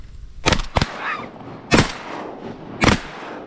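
Shotgun blasts during opening-day duck hunting on Wisconsin public land: two quick loud booms close together, then two more spaced shots a second apart, each sharp and near with a brief outdoor tail.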